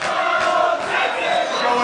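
Wrestling crowd at a House of Glory show in the NYC Arena, cheering and chanting together in a loud, sustained roar that swells and dips slightly.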